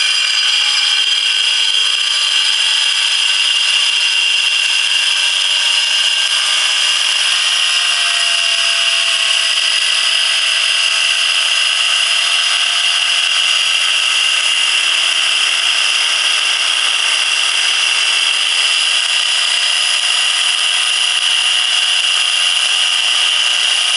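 A saw cuts steadily through a silver ore rock, a continuous loud grinding whine with a bright, harsh rasp that holds without a break for the whole span.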